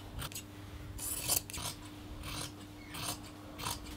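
Scissors snip through a tea towel being cut down for rock climbing pants, several close, crisp cuts in uneven bursts with quiet pauses between.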